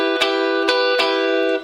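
An electric guitar is strummed three times with the fretting fingers held down on the strings, each stroke giving a bright chord that rings on and sustains cleanly between strums.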